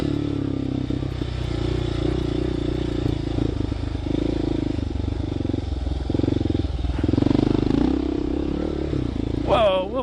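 Kawasaki KLR motorcycle riding over small jumps on a practice track, with a steady engine drone, clatter and scraping over rough ground, swelling louder near the end as it revs.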